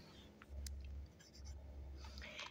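Pen scratching on paper while a geometry exercise is written out, two soft sustained scribbling strokes, quiet and close.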